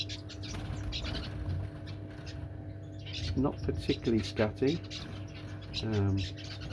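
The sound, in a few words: newly arrived pet birds chattering in a cage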